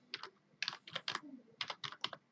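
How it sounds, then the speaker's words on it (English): Fingers type on a computer keyboard in short bursts of crisp, close clicks, entering a place name into a search field, with no voices. "Now, for example, let's type Moscow"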